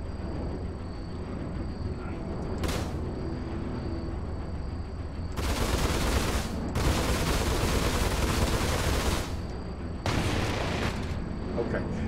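Spaceship cannons in Star Citizen fire in short rapid bursts, one brief and then longer loud volleys, over a steady low engine hum.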